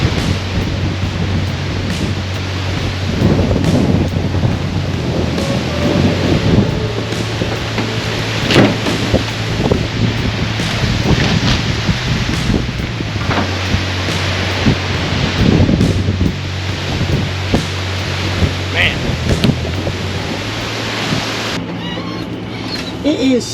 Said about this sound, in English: It is storm crazy outside.